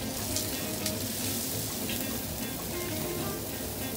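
Celery and leeks sizzle in a hot pan while prawn stock is being started, a dense, steady, loud frying hiss with faint stirring scrapes beneath it throughout, heard close up.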